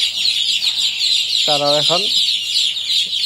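Chickens cluck steadily inside a poultry shed, with one louder drawn-out call standing out midway; a voice briefly speaks over the flock.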